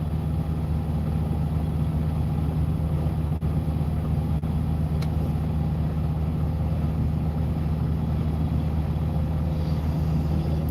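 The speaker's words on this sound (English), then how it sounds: "I know there's a lot of background noise because the truck is on full blast." A truck engine runs steadily at full blast, a continuous loud drone and hum filling the background with no pauses.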